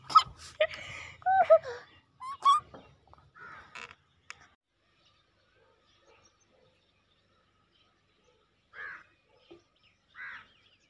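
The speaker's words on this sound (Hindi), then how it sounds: "शाम का वक्त है, चिड़ियाँ इंजॉय कर रही हैं।" Evening birdsong outdoors, a burst of crowing calls and chirps up close at first, then a few sparse, fainter calls after a long quiet stretch.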